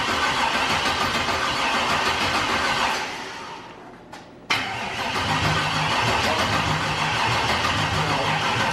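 Nitrous Monte Carlo SS drag car engine fires briefly, running loud for about three seconds before cutting out, then a short burst and a steady loud mechanical drone resumes; no talking.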